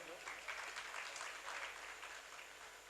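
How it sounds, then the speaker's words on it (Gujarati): Applause from a crowd at a Bhagavat Katha religious gathering in Haridwar, a faint, distant wash of clapping lasting a few seconds. "એટલે તમે 50 સોલંકી સાહેબને તાળીઓથી વધાવજો."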